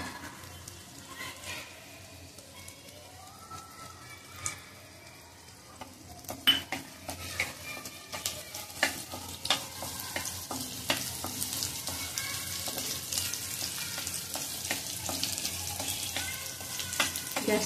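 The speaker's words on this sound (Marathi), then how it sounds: "कढई गरम झाली की त्याच्यामध्ये आपण टाकणार आहोत लसूण आणि आलं" Crushed garlic and ginger fry in a hot wok, giving a faint sizzle at first that swells into louder, crackling frying with stirring scrapes and clinks of a spoon against the pan.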